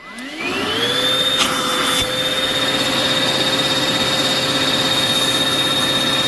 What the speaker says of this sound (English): you just vacuum as much air out as possible